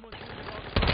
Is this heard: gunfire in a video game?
yes